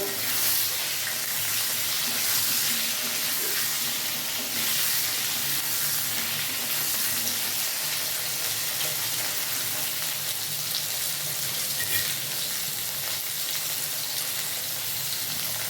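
Potatoes and vegetable stems fry together in hot oil in a pan for a Bengali fish curry, giving a loud, continuous sizzle and hiss with occasional stirring and no talk.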